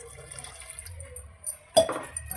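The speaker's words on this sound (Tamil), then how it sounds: "இன்னும் கொஞ்சம் தண்ணி ஊற்றிப்போம்." Water is poured into a pot of tamarind puli kulambu with manathakkali, a short close splash of liquid rising briefly above quiet kitchen background.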